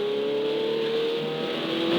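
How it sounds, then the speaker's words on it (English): A Ferrari 488 Challenge Evo race car accelerating on a track, its engine holding a steady, loud, close drone with a strong tonal whine that rises slightly toward the end, heard alone without talk. "you're going to accelerate as fast as you can through these S's here"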